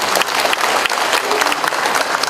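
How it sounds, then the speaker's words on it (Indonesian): An audience claps thickly and steadily for a little over two seconds at a 40th-anniversary thanksgiving celebration of an Islamic boarding school for orphans, a dense, close wash of many hands with no pause. "Dan ini harus tepuk tangan untuk semuanya."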